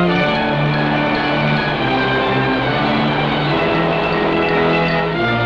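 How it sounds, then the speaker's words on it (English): The Passaic River plunging 70 feet over a waterfall in Paterson, New Jersey: a loud, steady broadband roar of falling water, continuous and even throughout with no voices. "The power of the Passaic River, plunging 70 feet downward in a show of strength."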